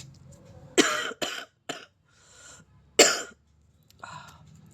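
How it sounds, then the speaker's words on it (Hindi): Several harsh coughs close by, a quick cluster of three followed by a fourth after a pause, with throat-clearing between. "आज आपको बार बार खांसी की आवाज़ सुनाई पड़ सकती है"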